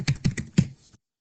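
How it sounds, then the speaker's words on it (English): Four or five quick keystrokes on a computer keyboard, soft and close, tapped in a short burst before silence. "I'm going to type in think."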